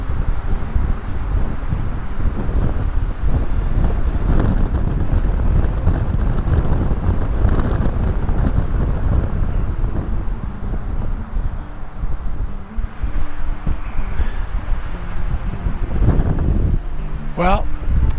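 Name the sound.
strong wind blowing up a canyon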